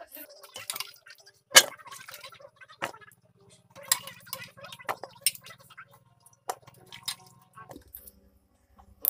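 Cut potatoes get washed in water in a pot, with scattered drips, splashes and squishy handling knocks at close range, intermittent and fairly quiet, with a low hum in the background.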